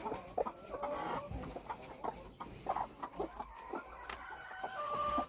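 Hens clucking and a rooster crowing nearby, a busy farmyard chorus of overlapping bird calls with no talking.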